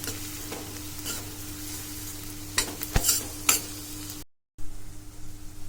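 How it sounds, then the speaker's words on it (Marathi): Soft sizzling of ginger-garlic paste sautéing in a pan with a low steady hum, a few sharp scraping clicks near the end, then a brief cut before the sizzle resumes. "आलं लसूण पेस्ट टाकते हे पण चांगला परतवून घ्या"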